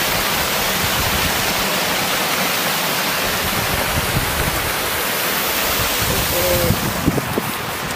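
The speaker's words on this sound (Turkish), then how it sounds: "Burada bir şelale bulduk." Waterfall in a forest, a dense continuous rush of falling water, loud and steady with no talk.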